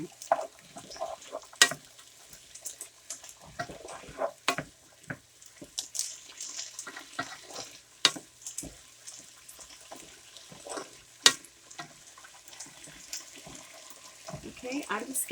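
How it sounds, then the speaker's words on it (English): Vegetables for minestrone soup sautéing in a pot, a soft steady sizzle with occasional stirring clinks and scrapes, close but quiet, with kitchen handling noises throughout. "I'm just going to get this sauteed before I add any liquid to it."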